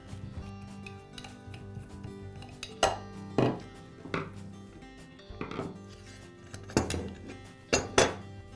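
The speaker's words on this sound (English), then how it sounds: "I'll begin by removing the side handle and the guard." Metal parts clink and clatter as the side handle and guard come off a Makita angle grinder, with several sharp knocks and rattles separated by quiet pauses.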